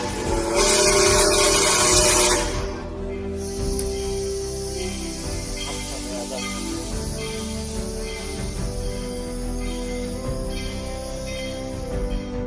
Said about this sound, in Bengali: কিন্তু শেষ পর্যন্ত ট্রেনটি এসেই পড়ে